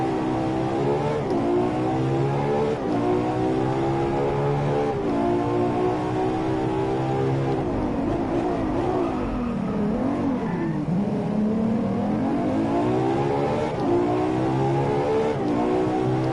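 Race car engine in the Driveclub video game, revving hard through rapid gear shifts with rising and falling pitch sweeps, loud and continuous throughout.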